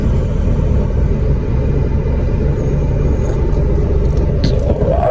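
A Honda Civic runs with its air conditioning on, a loud, steady close-up rumble with a faint rising whine near the end and no talking.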